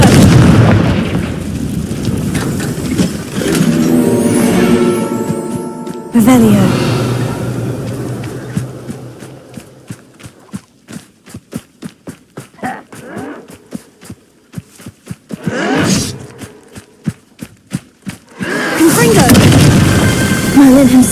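Confringo spell blasts in the video game Hogwarts Legacy go off as several loud, heavy booms spread across the scene, separated by quieter stretches, with lowing animal calls in the background.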